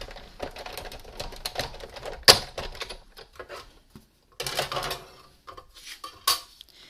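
A manual die cutting machine cranking a sandwich of cutting plates through while trimming a paper granola bar cover, a clattering, clicking mechanical rattle in uneven close bursts with a few sharp knocks.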